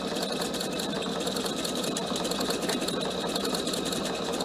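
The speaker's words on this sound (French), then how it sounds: "Donc là, j'arrive au bout de ma couture." A PFAFF sewing machine stitching a cushion cover runs in a continuous, even whir at close range, with no talking over it.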